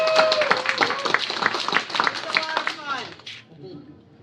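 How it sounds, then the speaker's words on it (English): Audience applause at a Dragon Con 2018 panel on ethics in virtual reality, scattered clapping mixed with crowd voices and chatter that fades out toward the end. "That gets applause."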